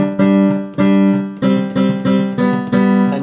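A keyboard plays a short riff built on a G, moving up to an A on the final notes, with several sustained chord-like strikes in a steady rhythm, loud and clear with nothing else heard.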